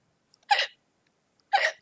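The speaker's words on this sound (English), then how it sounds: "Hiccups." Two sharp hiccups spaced about a second apart, each a short, abrupt burst close to the microphone, with near silence between them.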